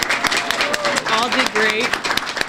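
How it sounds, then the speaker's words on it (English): An audience at a library poetry awards event claps for high school poets, giving a brief burst of scattered claps, with someone talking over it. "Show a round of applause for all of our high school poets here today."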